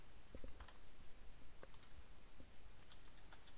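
Several light, sharp computer mouse clicks scattered across a few seconds, made while building a turret in a computer tutorial, quiet and near over a steady faint background hiss.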